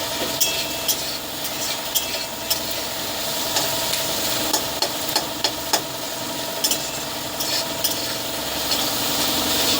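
Food fries in a pan with a constant sizzle, punctuated by regular sharp clicks and scrapes of stirring, heard up close without any voices, before dried fish is added.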